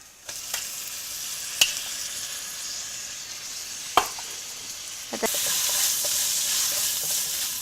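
Prawns stir-fry with amaranth (Chinese spinach) in a Malaysian-style pan. A few sharp utensil clinks scrape over a faint background, then the sizzle swells into a brighter, steady hiss near the end.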